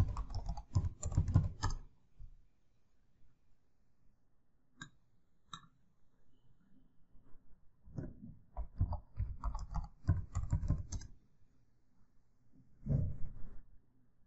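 Computer keyboard keys tapped in quick bursts while a username and password are entered to log in to a LiteBeam AC Gen 2 antenna's settings page, with a flurry at the start, another in the middle and a short one at the end.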